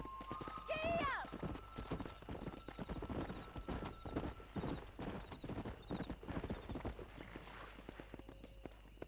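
Horses racing in Red Dead Redemption, with rhythmic hoofbeats drumming at a gallop beneath frequent talk, a brief neigh near the start and a rider urging the horse on.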